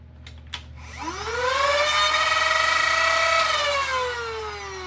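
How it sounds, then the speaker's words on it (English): Adventure Force Axis Switch Pro toy blaster revving up: a rising motor whine that climbs within a second, then holds as a loud steady hum before easing off slightly at the end, preceded by a couple of clicks. "it revs up really quick"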